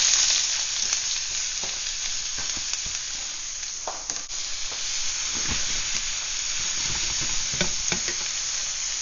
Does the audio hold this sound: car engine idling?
no